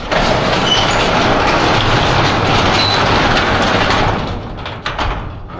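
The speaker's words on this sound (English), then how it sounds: "we're going to lift up the door." A small residential garage door, a Clopay model sold at Menards, is lifted by hand, giving a loud continuous rolling rumble and rattle that fades and thins out near the end.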